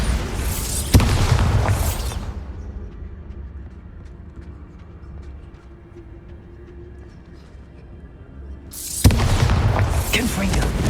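Two loud spell blasts from Bombarda and Confringo in Hogwarts Legacy, each a sharp bang near the start and near the end, with a dense roaring burst around each and a quiet, low rumbling gap between them.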